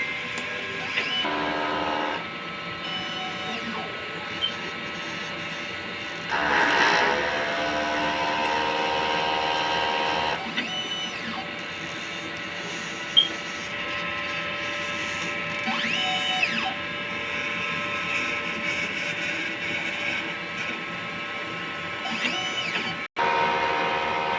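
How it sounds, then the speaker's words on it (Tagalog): An inkjet printer runs a print head cleaning cycle, with mechanical whirring, pumping and clicking that shifts in rhythm over time, each phase distinct, with no voices. "After head clean, pinasa natin ng wiper. Nozzle check."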